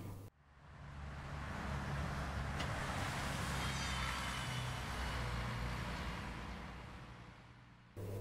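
Bus engine rumbling past with a low steady drone and broad road noise that swells, holds, then fades as the vehicle passes, heard alone without voices.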